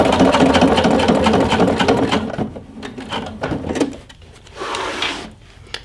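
Sewing machine stitching a patch onto a leather vest, starting with a loud, steady run of close stitching that slows into short, uneven bursts with pauses as the work is maneuvered.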